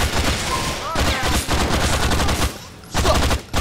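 Bursts of rapid gunshots ring out in GTA 4 gameplay, loud and close in several clustered volleys separated by short pauses, with shouting voices over the shooting.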